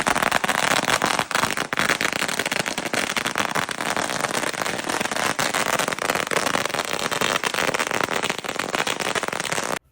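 Firecrackers bursting outdoors at an India cricket victory celebration: a dense, continuous barrage of loud crackling bangs with no pauses, close and dominant.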